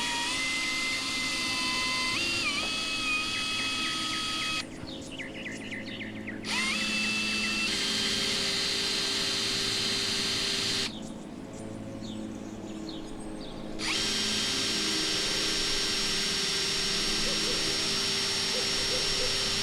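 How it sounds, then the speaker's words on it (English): A small high-pitched drill with a 1/16 bit whines steadily while drilling pilot holes for body screws in a toy Hot Wheels car body, stopping twice briefly, with speech over it. "I'm using a 1/16 drill bit to drill the pilot holes."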